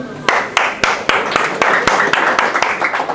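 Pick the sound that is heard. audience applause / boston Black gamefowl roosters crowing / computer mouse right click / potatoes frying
audience applause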